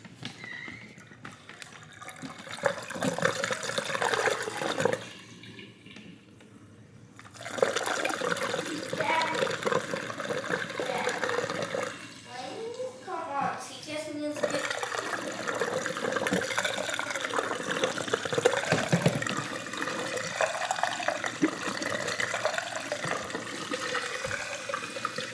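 Water from a dishwasher on its drain cycle flows and gurgles steadily for most of the stretch, breaking off briefly to near-quiet before resuming, with a faint animal-like squeal over it.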